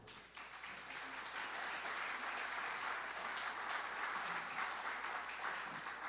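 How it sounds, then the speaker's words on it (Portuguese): A church congregation applauds together in a steady, even wash of clapping that holds at a moderate level throughout, with no voices standing out above it. "Aplauda o Senhor."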